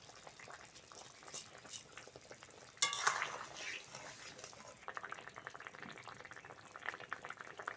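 Curry broth of flat beans, radish, potato and lentil bori bubbling in a pot on a village kitchen fire, soft low simmering and gurgling with a brief stir or clatter midway, faint and close.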